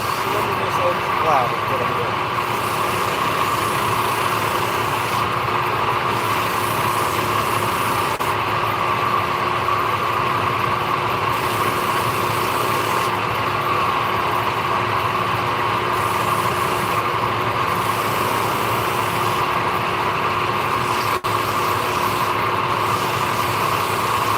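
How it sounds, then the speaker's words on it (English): A motorized leather-working sanding drum runs with a steady, loud whine and constant hum throughout, with a voice speaking over the noise now and then. "I use it for these sanding discs or sanding drums. Might be a little loud"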